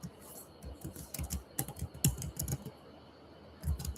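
Fingers type on a computer keyboard in quick, irregular clusters of soft, close clicks with short pauses between bursts.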